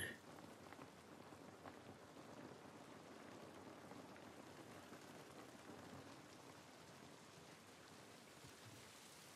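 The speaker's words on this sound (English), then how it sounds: "This rain ain't gonna do us any good." Steady rain falls in the video game The Last of Us remake, a soft, even hiss of drops on surfaces that holds unbroken throughout at a fairly quiet level, with no voices.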